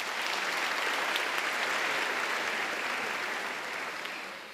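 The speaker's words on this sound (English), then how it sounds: "please give them a round of applause." A graduation ceremony audience applauds, a steady and dense wash of clapping from a large crowd in a hall that holds for several seconds, then thins and fades slightly toward the end.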